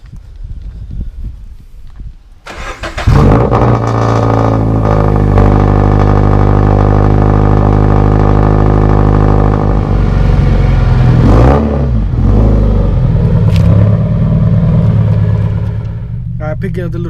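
Engine of a broken-down car cranking over and catching, then holding a loud sustained rev with a rough harmonic drone that wavers midway and eases off near the end, preceded by brief scuffling before it starts.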